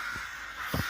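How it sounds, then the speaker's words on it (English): Crows cawing up in the trees, two short harsh caws heard at a distance over steady background hiss. "These are all of our crows up there."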